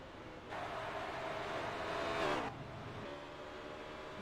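A race car on a short-track oval in a summer showdown event roars past, rising to a loud peak over about two seconds and then cutting away, with engine noise lingering in the distance.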